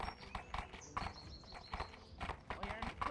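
Horse hooves clip-clopping at a steady walk, close and distinct, with a few faint whinny-like tones and people talking over the hoofbeats.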